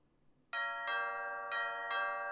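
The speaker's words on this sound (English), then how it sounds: "When I rang the doorbell, it was Ali Sue who answered the door." Doorbell in the video game Taisho x Alice, a clear electronic two-tone ding-dong chime sounding twice in succession, bright and close against a quiet background.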